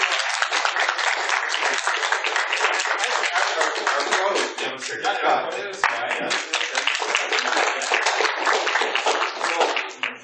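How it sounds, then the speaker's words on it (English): Audience applause at a fursuiting convention panel, steady dense clapping from a roomful of people for about ten seconds, briefly thinning midway, with a single word spoken over it. "Come on, give him applause, man."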